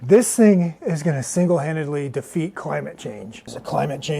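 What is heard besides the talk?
None of the usual background noises is heard.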